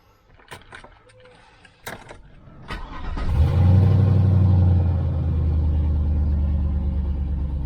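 A 2002 Chevrolet Avalanche with about 240,000 miles cranks and fires up after a few clicks and knocks, then settles into a loud, deep rumbling idle through aftermarket pipes, close by.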